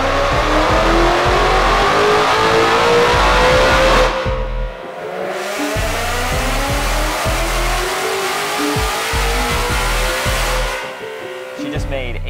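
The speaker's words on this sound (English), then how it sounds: "I'm gonna run it on the dyno and show you what it makes." A 2024 Mustang fitted with a VMP Gen 6 Stage 4 supercharger roars loudly on a dyno, the engine climbing through a long rising pull, cutting off briefly, then winding up hard again before dropping away.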